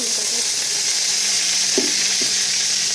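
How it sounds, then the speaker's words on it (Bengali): Potatoes frying in oil in a pan after okra was fried in it, a steady loud sizzle throughout with a couple of brief stirring clinks near the end. "আলুটা একটু ভাজা ভাজা করে নেব"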